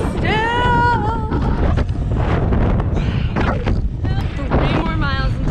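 Strong wind buffeting the microphone while cycling on a long road ride at sunset, loud and continuous, with voices talking over it.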